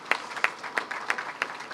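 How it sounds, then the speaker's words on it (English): Applause at a business event in Guyana, crisp individual claps in a loose rhythm, fairly close and clear, from a small audience over a brief moment. "Let's give him a round of applause for that,"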